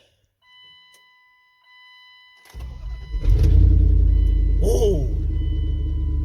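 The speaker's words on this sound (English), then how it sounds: "we're just gonna go start it up and take it for a drive, see how it sounds" A 2nd-generation 1500 pickup truck with its catalytic converter deleted cranks and fires up, settling into a loud, deep, throaty rumble close by after a short silence; a man exclaims briefly over it.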